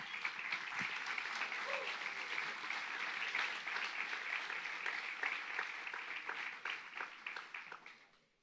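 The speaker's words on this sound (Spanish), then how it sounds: "Denle el aplauso al Señor." A church congregation applauds during a sermon, steady clapping that swells and then fades out toward the end, with no talking.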